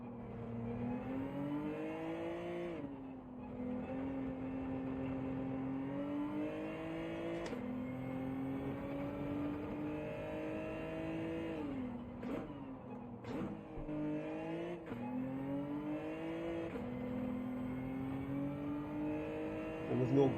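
A GTR race car in Gran Turismo 7 holds a sustained engine drone, its pitch sliding up and down through gear changes and braking, with a few sharp dips and steady throttle throughout.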